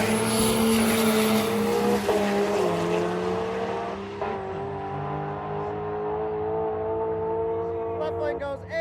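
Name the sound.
old Ford truck with Cummins diesel drag racing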